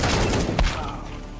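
Gunfire in a Counter-Strike style competitive shooter match, a dense burst of shots with a sharper crack near the middle, loud and close, layered over busy game noise.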